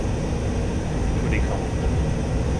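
A steady, loud jet engine drone from a BAE Hawk trainer in DCS World on a landing approach, a constant broadband roar that stays even throughout with no breaks.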